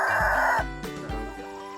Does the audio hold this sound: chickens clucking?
yes